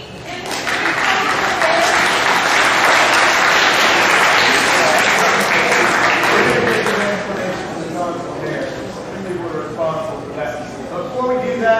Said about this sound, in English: Let's give a round of applause to Mr. Simmons